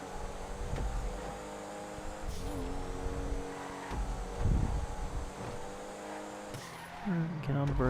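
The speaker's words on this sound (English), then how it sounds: "That was just a little tap of the e-brake and just ride all the way around." Rally car in the video game GTA V sliding around a corner on a quick e-brake tap, with engine drone, tire skid and revving that swells and drops over several seconds, and a voice talking over it.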